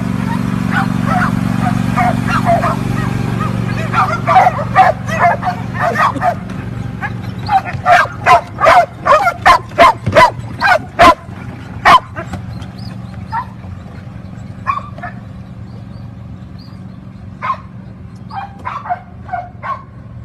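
Several dogs bark and yip in quick bursts, loud and close, with a steady low hum running underneath; the barking is densest in the middle and thins to scattered yips toward the end.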